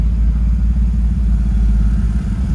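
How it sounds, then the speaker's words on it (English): A rotary-engined car launches in four-wheel drive on high boost at an eighth-mile street drag event, a loud, dense engine roar with rattling clatter holding steady throughout. "So here we go, 4-wheel drive launch."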